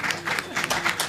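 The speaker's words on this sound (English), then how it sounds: "I think we need a strong clap for that." Applause from shareholders at the Guinness Nigeria annual general meeting, a steady room-filling clatter of many hands in irregular pulses, fairly close and lasting the whole moment with no talk over it.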